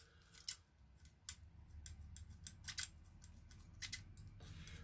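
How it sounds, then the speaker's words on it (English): Scissors snipping in a quick, irregular series of crisp cuts, close up, with a faint steady background hum. "Now I'm using big chunky scissors here."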